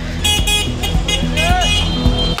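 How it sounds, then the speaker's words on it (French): Car horns honk repeatedly over a dense Delhi traffic rumble, with voices talking throughout and a rising tone sweeping past midway. "Donc ils klaxonnent, ça n'arrête pas."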